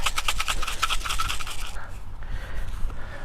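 Sunflower seeds and mealworms stirred together for a garden bird feeder, giving a close, dry rustling scrape with quick repeated strokes that eases into softer shuffling.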